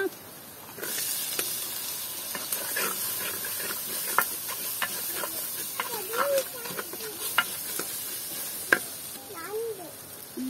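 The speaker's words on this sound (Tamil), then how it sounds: "இந்த வெட்டி வச்ச பிளாக்கொட்டையை போட்டு வதக்க போறேன்னா" Chopped vegetables sautéing in a pan for Jaffna-style crab curry, cooked in a village setting, give a continuous hiss and sizzle with scattered scrapes and clinks from stirring, while faint birdsong chirps in the background.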